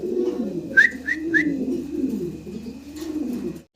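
Red Bombay and other fancy pigeons in a loft give low, rolling coos in a steady wavering pulse nearby, with three quick high chirping whistles early on, before the sound cuts off at the end.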